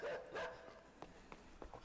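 A puppy in a video game gives a few short, yappy barks and whimpers, fairly quiet and spaced out, with a brief voice at the start.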